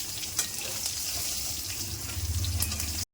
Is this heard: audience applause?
no